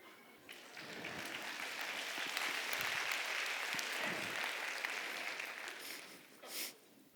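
Audience at a talk on reading the minds of animals claps steadily for several seconds at moderate volume, a broad wash of applause that fades near the end with a brief louder burst.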